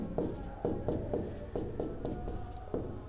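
Chalk or marker taps and scratches across a board during a physics lesson, in quick, irregular strokes that sound close but faint, with no speech.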